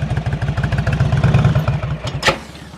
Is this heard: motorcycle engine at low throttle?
yes